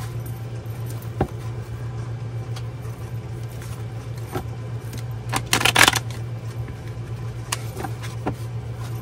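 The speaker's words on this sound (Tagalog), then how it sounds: "Balasahin muna po natin." Playing cards being shuffled by hand for a tarot-style reading, a few soft riffling bursts and taps over a steady low hum, with one denser riffle in the middle.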